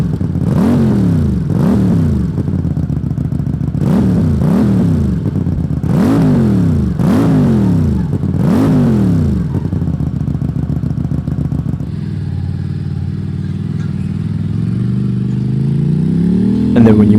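A 2022 QJMotor SRV250 with a 250cc engine, heard up close as it revs up and down repeatedly in rising and falling sweeps, then drops to a steady low burbling idle with a brief rev at the end.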